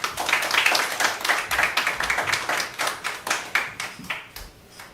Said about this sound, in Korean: 목사님 나오실 때 우리 힘차게 박수하도록 하겠습니다